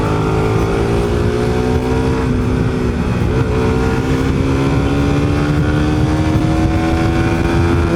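A Suzuki Satria Pro motorcycle engine runs loud and close, its buzzing tone holding steady, dipping briefly, then climbing gradually in pitch as it revs.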